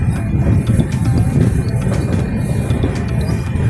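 A passenger train running smoothly on rails in Purba Medinipur, West Bengal, heard from inside the carriage as a loud, constant rumble with rhythmic clicks and rattles, with no talking.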